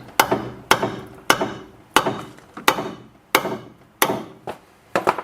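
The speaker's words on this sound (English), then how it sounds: "Quite tight, so hammer will need to be there as well." Sharp hammer blows strike a tight metal bolt on a Chrysler 300 front sway bar in a steady rhythm, about nine hits each ringing briefly before the next, close and loud.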